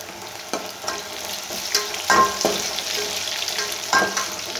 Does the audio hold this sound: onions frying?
yes